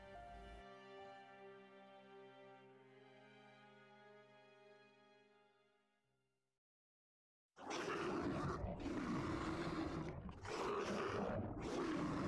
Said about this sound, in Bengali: গভীর অরণ্যের ভিতরে সিংহরা কিরকম গর্জনের পর গর্জন করছে